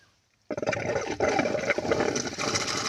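After a short silence, water is suddenly drawn through a siphon pipe with a loud, gurgling rush that continues steadily.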